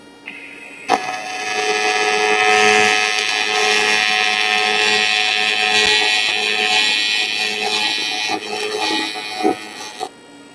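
A TIG welder running a bead on anodized aluminum gives off a loud, steady electric buzz with a constant hum for most of the stretch, ending in a few short clicks as the arc stops.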